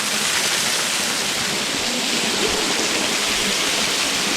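A small waterfall cascading in a forest in the Vosges, a steady, loud, close rush of falling water with no break, and no voices.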